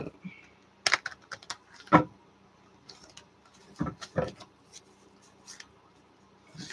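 Cards are shuffled and handled up close in short, irregular bursts of riffling and snapping, with pauses between.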